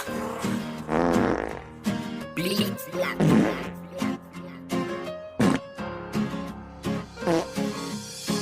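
Fart sound effects punctuating a Bisaya novelty song, short blurting bursts recurring between sung lines over a musical backing.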